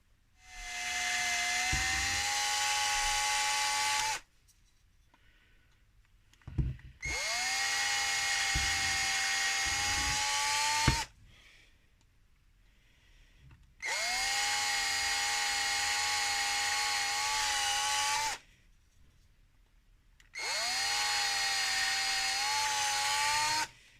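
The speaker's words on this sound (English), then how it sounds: "So if we drill these out at 3mm, that should be a clearance hole" A power drill whines in four long bursts, each lasting a few seconds, separated by short quiet pauses with light handling clicks, drilling 3mm clearance holes in an InMoov robot shoulder part.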